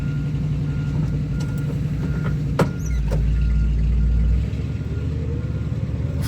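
A 1960 Chevrolet Impala drives along with a steady low engine hum and road noise, a sharp click and squeal partway through, and a heavier low rumble swelling for a moment before easing off.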